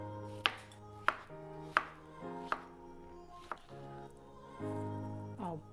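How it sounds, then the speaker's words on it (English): Large fresh strawberries being sliced with a knife on a cutting board, five or six crisp, evenly spaced chops close by, each ending on a sharp tap against the board. "Take off the tops and I'm gonna slice those."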